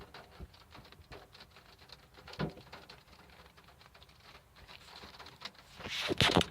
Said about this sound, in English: oh hello, it's raining.